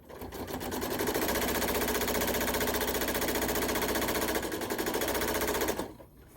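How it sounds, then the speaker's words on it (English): A sewing machine stitches a quilt through on its feed dogs, a loud, fast, even mechanical rattle running several seconds before stopping abruptly. "The feed dog is taking it right through on its own."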